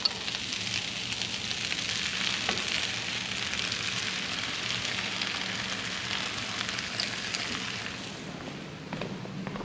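Eggs fry in a pan on a camp-style cooktop beside rice and beans, giving a steady, close hissing sizzle with faint pops that continues without any talking.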